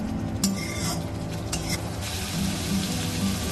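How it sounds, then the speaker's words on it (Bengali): Masala spice paste for aloo gobi fries in oil with a constant close sizzle, while a spoon scrapes and clinks against the pan now and then. "বাকি মশলাটা ততক্ষণ ফ্রাই করার আছে যতক্ষণ না তেল ছেড়ে দেয়"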